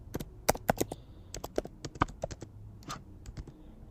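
Close, crisp computer keyboard typing in bursts of irregular key clicks, some louder than others, with no talking.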